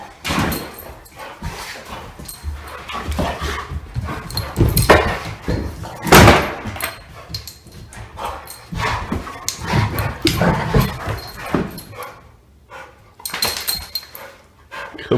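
A German Shorthaired Pointer barks sharply and whimpers in bursts, with thumps and door-like bangs mixed in, fairly close and loud.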